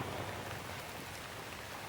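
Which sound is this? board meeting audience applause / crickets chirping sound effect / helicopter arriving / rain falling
rain falling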